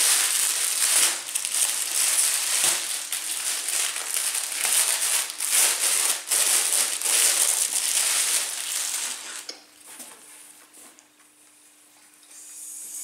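Plastic packaging crinkles and crackles steadily as an Attack on Titan t-shirt is unwrapped, a close, busy rustle that runs for about nine seconds before fading into quieter handling.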